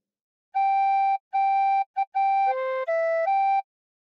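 Tin whistle played softly, a short phrase of What Shall We Do With the Drunken Sailor: repeated pure held notes, a quick tongued note, then a few stepping pitches, clear and close with no other sound.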